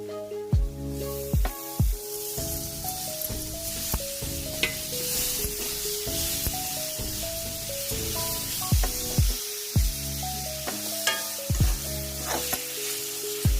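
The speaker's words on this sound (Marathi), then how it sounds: "आता टोमॅटो पण परतून घ्यायचा आहे।" Chopped tomatoes sautéing in hot oil for a chicken curry, a loud continuous sizzle and spatter close up, punctuated by repeated sharp knocks and scrapes of a spoon against the pot.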